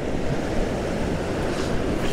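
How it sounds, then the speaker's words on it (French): Rough sea waves and strong wind on a shore where someone is fishing between storms, a loud continuous roar of surf with buffeting wind noise. "La mer s'est vraiment levée avec le vent."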